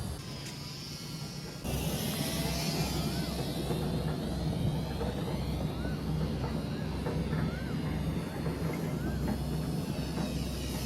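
A Mini 182 Cessna RC trainer plane flies outdoors on a small electric motor at low throttle. Its faint whirring drone wavers in pitch against wide open-air noise, which grows louder partway through.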